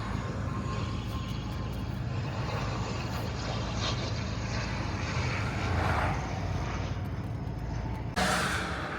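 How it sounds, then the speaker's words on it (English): Airplane coming in to land, heard from a roadside viewing spot in Ireland as a continuous low engine rumble, fairly distant and steady, with wind and faint background noise and no talk. "We are on the side to watch the planes land. There's one coming in."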